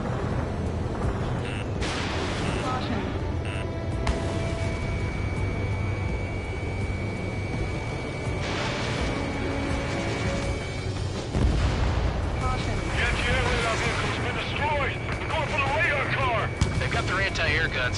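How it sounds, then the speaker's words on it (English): Anti-air guns pound away during an air attack in a video game, a dense, continuous barrage of booms and bursts layered with voices talking over it throughout. "Anti-air guns aimed right at us."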